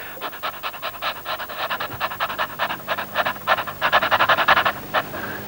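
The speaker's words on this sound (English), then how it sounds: "The next one I'd like to do is the panting exercise" A person performs a panting breathing exercise during a singing lesson: a long run of quick, evenly spaced breaths, close and fairly loud, with a faster burst near the end and no talk over them.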